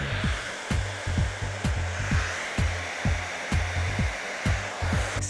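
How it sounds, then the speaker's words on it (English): A hair dryer with a diffuser attachment blows continuously at close range, a steady airy whoosh with a regular pulsing rhythm of low thumps, no talking. "now I'm going to use the diffuser to lock in my look."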